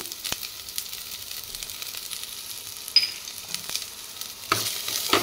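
Crushed garlic and green chillies fry in hot oil with a soft, steady sizzle, punctuated by a few light stirring taps against the pan, close and quiet.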